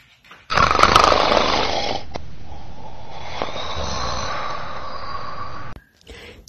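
A loud snoring sound effect for a children's farm story, a single long rasping snore that starts abruptly, holds steady for about five seconds and cuts off, with no voices over it.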